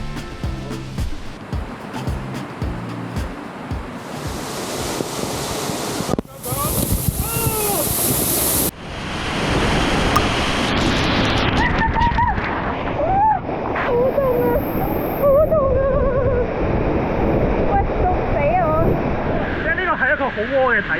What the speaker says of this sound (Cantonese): 我哋行咗15分鐘嚟到第一個瀑布